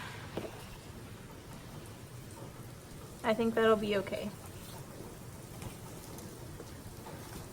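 Steady spring rain falls outside open windows, a soft continuous hiss in the background while a person briefly speaks near the middle.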